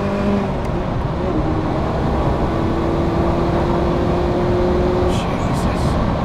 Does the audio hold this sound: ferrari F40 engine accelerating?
yes